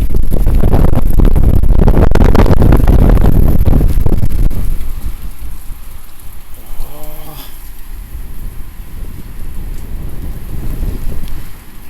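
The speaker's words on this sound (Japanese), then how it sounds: "これでも入ってくるからね、雨が。" Heavy typhoon rain (Typhoon No. 14) pours down as a loud, steady wash for several seconds, then eases into a softer, continuous hiss with a brief tonal call partway through.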